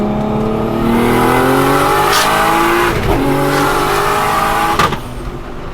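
An 800-horsepower Nissan R34 GT-R race car with an HKS RB28 engine and sequential gearbox revs hard and climbs through its gears on a street, loud and close, with a brief squeal near the end before the roar drops off.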